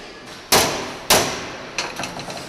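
A hammer strikes a personal safe in a safe-making factory, with two sharp, loud metallic clangs followed by a few lighter taps ringing out in an open workspace.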